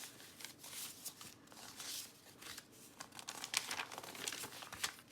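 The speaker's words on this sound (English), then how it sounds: "I have some coffee dyed" Coffee-dyed paper being handled and crumpled, giving a steady run of dry crinkling and rustling bursts up close for about five seconds, with no talking.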